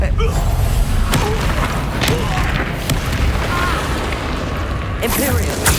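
Confringo explosive spell blasts in Hogwarts Legacy land as repeated loud booms and thuds amid combat effects, close and forceful, with sharp bursts at the start and again near the end.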